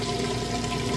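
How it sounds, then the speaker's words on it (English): Kenmore washing machine pump draining water out between the wash and rinse cycles, a steady rushing, gurgling flow with a low hum, constant and close. "You can hear it draining that water out."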